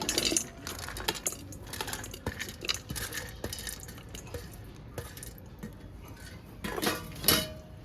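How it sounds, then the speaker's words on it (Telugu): Sliced bitter gourd pieces, seeds left in, clatter and tap onto a plate in a quick irregular run of light knocks and scrapes, with a louder burst of clinks near the end; no one speaks. "ఇవన్నీ ఒక ప్లేట్లోకి వేసుకుందాం."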